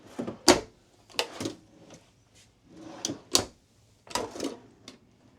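Drawer in the kitchen of a 2018 Tiffin Allegro Red motorhome sliding open and shut several times, a series of close, sharp knocks and rolling slides separated by brief pauses.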